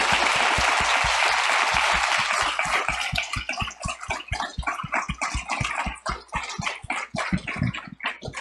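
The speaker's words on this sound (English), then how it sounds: "Let's give Amir a round of applause." An audience applauds after a leadership speaker series talk at Michigan. The clapping starts as a dense, loud wash and thins into distinct individual claps, continuing steadily for several seconds with no voices over it.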